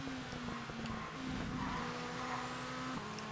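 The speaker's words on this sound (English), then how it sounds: "see how quick we hit the rev limiter" A supercar engine in the racing game ToCA Race Driver 2 holds a steady, buzzing high-rev drone as it bounces against the rev limiter, with brief dips in pitch, loud and continuous throughout.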